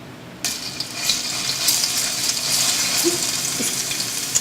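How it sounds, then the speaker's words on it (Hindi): Ginger garlic paste hits hot ghee in a pan and immediately erupts into a loud, close, continuous sizzling hiss that crackles on steadily for several seconds. "अब इसी घी के अंदर हम अदरक लहसुन पेस्ट डालेंगे।"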